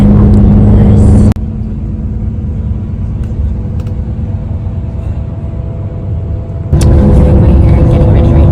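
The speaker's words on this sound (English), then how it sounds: "Made it on the bus." A bus engine drones with a steady low rumble heard from inside during the ride, loud and continuous, with abrupt shifts in level at the start and near the end.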